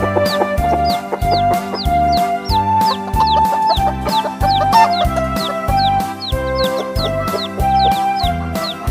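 Repeated chicken clucks ride on top of a bouncy, steady musical backing, recurring every beat or so throughout, loud and up front with no talking.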